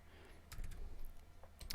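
A few quiet, quick keyboard taps and clicks come in short bursts against a faint background hum, then a sharper click.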